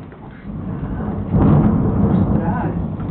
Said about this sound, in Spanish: A ver qué ruido hace el trueno